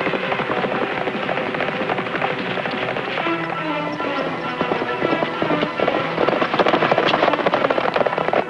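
Horses clip-clop in a rapid, irregular rhythm of hoof beats, fairly close and busy, as if several animals are moving together, with no speech.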